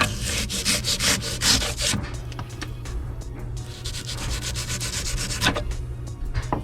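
A blade cutting through cured spray foam insulation, a steady close rasping, sawing scrape with quick rhythmic strokes that slow after the first couple of seconds, heard alone without talk.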